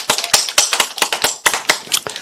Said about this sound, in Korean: 그 예수님께 감사와 찬양과 영광의 박수를 올려드립니다